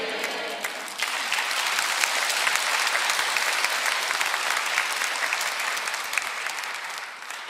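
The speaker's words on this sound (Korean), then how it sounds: "박수 안 치셔도 돼요." Congregation applauding in a church service, a sustained, dense wash of clapping that swells after the first second and stays steady, moderately loud, with no voices over it.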